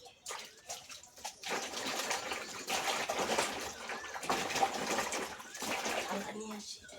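Vegetables are swished and rinsed by hand in a basin of water, a steady splashing and sloshing close by that runs almost throughout with brief pauses, and someone talks at times over it.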